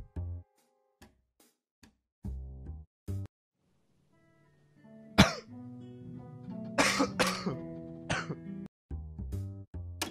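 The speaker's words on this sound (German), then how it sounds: "Oh, dieser Husten." A person coughs and clears their throat several times in short, loud bursts close to the microphone, with quiet pauses between them.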